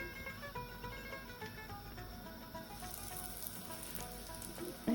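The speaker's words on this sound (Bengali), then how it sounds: "এখন আমি এই পাকুড়া, ডিমের পাকুড়া আমি ভেজে নিব।" Egg pakoras deep-frying in a pan of oil, giving a steady, close crackling sizzle that holds even throughout and grows brighter and busier toward the end, with no voices.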